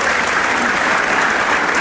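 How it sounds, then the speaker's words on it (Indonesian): Loud, dense studio audience applause on an Indonesian TV talk show, a steady wash of clapping filling the space without a break and with no voices standing out. "Lu berisik banget tepuk tangannya pengang tau"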